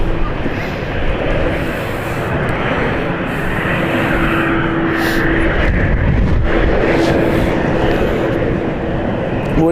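Aircraft at London City Airport heard as a loud, steady engine roar that holds for the whole stretch, with a constant tonal hum underneath.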